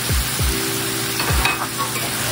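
Sliced mushrooms with minced garlic frying in a pan give a loud, steady sizzle, with a few low scraping thuds of stirring near the start, close up and with no talk.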